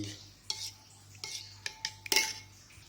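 A utensil beating an egg mixture clinks and scrapes against a bowl in a quick irregular series of taps, close by, over a faint steady hum.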